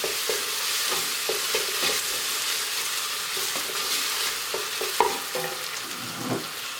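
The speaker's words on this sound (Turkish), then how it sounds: "Böyle salçanın kokusu çıkana kadar iyice bir kavuruyorum." Tomato paste frying hard in a pan, with a broad steady sizzle broken by repeated scraping stirs of a utensil at close range, no voices.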